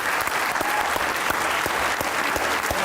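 An audience greets a poet at an interview show with steady, full applause throughout, many hands clapping at moderate distance with no pauses.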